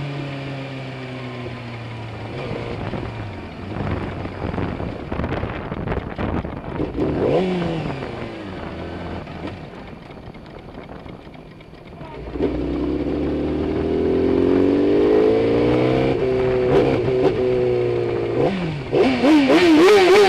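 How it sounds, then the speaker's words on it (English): A motorcycle engine runs and revs steadily in pouring rain, stuttering and dropping out midway as it cuts off, then catching and rising again, loud and close with constant rain noise behind. "the bike just switches itself off at random times"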